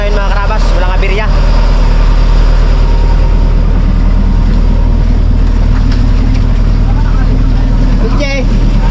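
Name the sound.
boat engines running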